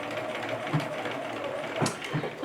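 A sewing machine stitches a zippered pouch, runs backward to backstitch, then stitches forward again: a steady close mechanical whirr and rattle with a few louder clicks and knocks.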